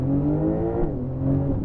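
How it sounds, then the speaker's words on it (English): A Porsche 911 Turbo S (992) accelerating hard in a 0-60 launch: a brief, loud engine drone with a steady pitch that dips slightly midway, as if through a shift, and then carries on. "992 Turbo S 0-60. This is going to be obnoxiously quick."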